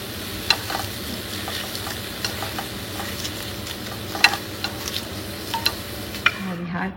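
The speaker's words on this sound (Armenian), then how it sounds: "բուսայուղի մեջ կամ քարակով կտապակենք լավաշի խորանարդիկներ" Lavash cubes frying in oil or butter in a pan, giving a steady close sizzle with scattered sharp pops and crackles throughout and no talking.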